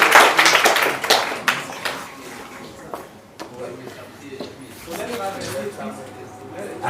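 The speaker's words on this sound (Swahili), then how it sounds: "Makofi ya waziri." Scattered clapping for a minister at a Nyeri County primary care network event, a burst of hand claps that thins into sparse claps mixed with talking and room noise.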